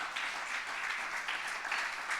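A church congregation claps softly and briefly in a quiet, even patter, the applause faint and somewhat distant with no talking over it.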